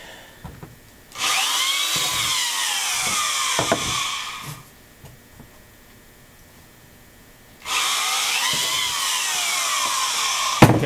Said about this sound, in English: Okay, so you've drilled them all.